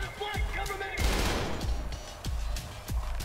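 Rapid gunfire bursts in the video game Trepang2, close and punchy shots repeating in uneven volleys with a thick rattle in between.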